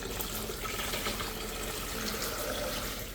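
Four cups of water pour into a sugar and hibiscus mixture for Mexican agua de Jamaica, giving a continuous close splashing and gurgling stream at low level with no talking.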